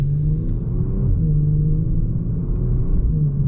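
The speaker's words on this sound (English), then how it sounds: "Love that upshift noise. I wish it did that in all the modes." Genesis G70 3.3T AWD engine drones steadily while driving, a loud, close, low rumble from inside the car with subtle pitch shifts through the upshifts.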